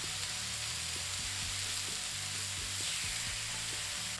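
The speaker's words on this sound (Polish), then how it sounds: "Jak widzicie, mięso rumieni się w tempie błyskawicznym" Chunks of marinated meat sizzle and fry in a pan over an open wood fire, a steady close crackling hiss with occasional soft stirring knocks and no voices.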